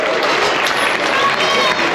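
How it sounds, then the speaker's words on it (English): Loud crowd clapping fills a county fair livestock show arena in Summit County, Utah, continuous and dense, with a voice and some crowd noise mixed in under it. "Give him a big round of applause."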